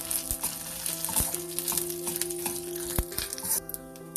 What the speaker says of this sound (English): fry these a little bit